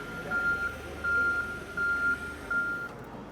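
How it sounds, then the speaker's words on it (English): Backup alarm of a Toyota 7-Series 7FBCU15 3,000 lb electric forklift beeps four times in an even rhythm, clear and fairly close, over a low motor hum. "You're going to obviously get the backup alarm, which is super handy, super helpful"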